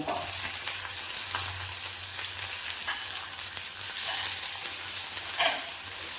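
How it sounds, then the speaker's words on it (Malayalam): Small onions sauté with ginger and garlic in a pan for a Kerala-style papaya curry, making a constant, close sizzle with occasional stirring scrapes. No voices are heard. "നമുക്കിതിലേക്ക് നമ്മുടെ ചെറിയ ഉള്ളി ഇട്ട് കേട്ടോ"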